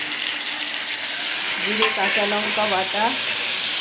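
Dried red chili and nigella seeds crackle in hot oil as a tempering, a loud close steady sizzle. Partway through, a brief tonal voice-like line rises over the frying.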